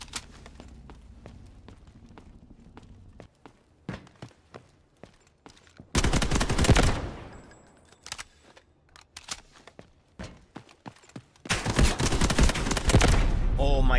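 Gunfire in the shooter Delta Force Hawk Ops, a run of sharp cracks and footstep-like taps, then two loud sustained bursts of rapid automatic fire, close and dominant.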